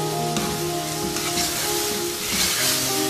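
Garlic ginger paste and finely chopped tomatoes added to frying onions for chicken samosa filling, a loud, steady hissing sizzle close up with a few sharper spits, no talk.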